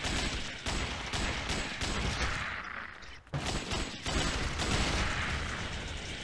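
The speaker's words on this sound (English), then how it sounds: "Damn, explosions." Dense, continuous gunfire and repeated explosions from the video game Alien Shooter 2, loud and rapid with booming bursts roughly every half second and a brief lull midway, filling the whole stretch without talk.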